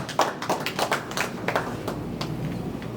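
Scattered applause from a small audience at a school football league launch event, with uneven individual claps that thin out over a few seconds.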